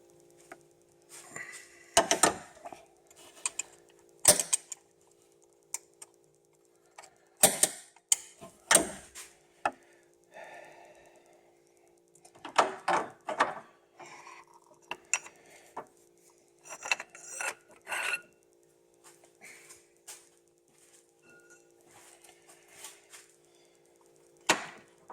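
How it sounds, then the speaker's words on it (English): A serpentine belt worked off the tensioner on a 2003 Toyota RAV4 engine, heard as scattered close clicks, scrapes and rubbing clunks in irregular bursts, with quiet gaps and a low steady hum behind. "I'm going to get in there and I'm going to try to slip out that belt"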